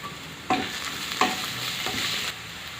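Onions sizzle in a pan with garlic and ginger paste while a spoon stirs through them, giving three or four scraping bursts over a steady, moderate frying hiss.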